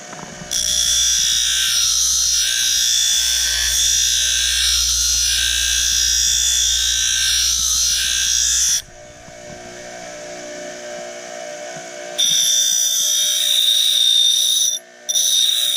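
A bench grinder sharpening a repurposed oscillating multi-tool blade, a loud steady high whine with grinding that runs for about nine seconds, drops off, then starts again.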